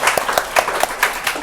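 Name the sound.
audience applause for a presenter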